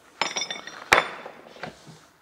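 Threaded pipe fittings, elbows and ball valves knock and clink together during a dry-run assembly of diesel tank plumbing. A few scattered metallic taps ring out, one sharper and brighter clink among them, close and fairly quiet.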